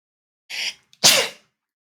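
A loud, close sneeze in two parts, a quick breathy intake followed by a sharp explosive burst, alone in an otherwise silent room during a livestream.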